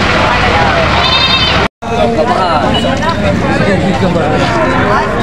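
Goats of Boer and Anglo-Nubian breeds bleat at a goat sale: several loud, wavering, close bleats, one after another, over a busy background of people talking.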